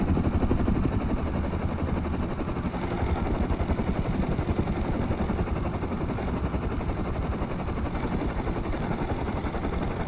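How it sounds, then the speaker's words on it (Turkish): A helicopter in the survival game Rust drones steadily and loudly, its rotor chop a dense continuous thumping that holds an even level throughout. "Gözümüze kestirdiğimiz helikopter hemen karşımızda"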